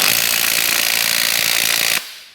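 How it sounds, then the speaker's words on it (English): A power tool strains at the cylinder head bolts during a Hemi engine teardown, a loud, steady, near grinding roar that runs for about two seconds and then stops abruptly. "let's rip these head bolts out"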